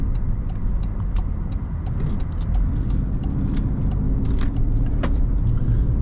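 A 2012 Jeep Liberty cruising and speeding up on the highway, with a steady low engine and road rumble filling the cabin, plus a few faint ticks and rattles above it, continuous throughout.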